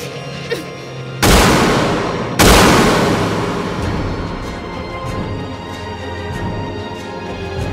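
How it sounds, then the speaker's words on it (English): Gunshots ring out in the anime Psycho-Pass: two sharp, loud blasts about a second apart, each followed by a long decaying echo and rumble. "Unless you hold the gun firmly, the bullet will miss."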